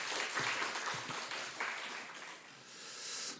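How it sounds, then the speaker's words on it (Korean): Congregation applauding in church after a prayer at a Wednesday service, a short burst of moderately distant clapping that swells and fades over a few seconds. "박수하겠습니다."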